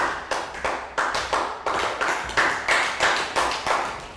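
A class of Year 3 pupils claps together in a health education lesson, giving a round of about fourteen crisp, evenly spaced claps in a quick, steady rhythm, close and fairly loud, with no talking.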